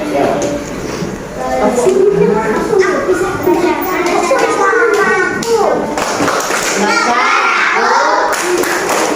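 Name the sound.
children clapping the Tepuk Negaraku clapping song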